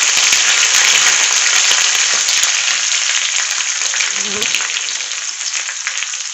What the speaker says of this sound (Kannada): ಸೊ ಇವಾಗ ಕರಿಬೇವನ್ನ ಹಾಕ್ಕೊತಾ ಇದ್ದೀನಿ.